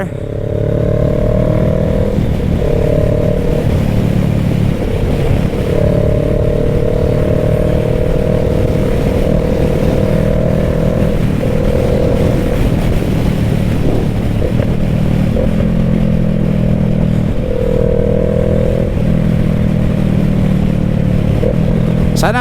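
A Kawasaki Versys 650 motorcycle engine drones steadily throughout while riding in the mountains, its pitch shifting up and down with the throttle, loud and close with wind rumble.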